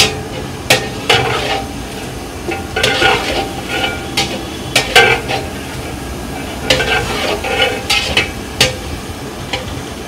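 Chicken masala for Moradabadi biryani frying in a pan at a food stall in Kashmir, with a loud sizzle under repeated sharp metal scraping and stirring strokes at an uneven rhythm, and no talk.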